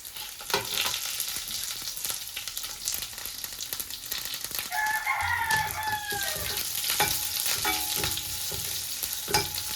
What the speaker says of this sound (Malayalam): ഉള്ളി മൂത്ത് വരുമ്പോൾ നമുക്ക് പച്ചമുളകും കൂടി ഇട്ട് കൊടുക്കാം.